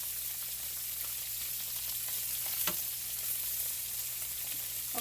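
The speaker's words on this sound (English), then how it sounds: "the fish is in the pan, and I'm cooking it on high heat" Salmon pan frying skin-side on high heat in a big skillet, a steady close crackling sizzle with a low hum beneath and a few sharper pops, continuous and fairly quiet, no talking.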